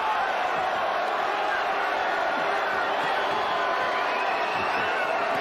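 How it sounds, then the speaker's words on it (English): Boxing arena crowd during a featherweight fight, a loud continuous roar and murmur of a large audience, with a commentator talking over it. "The crowd wanting more action."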